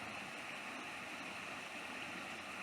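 The Caherdaniel River flows past a town in a steady, even rush of water, a soft continuous wash with no voices and no breaks.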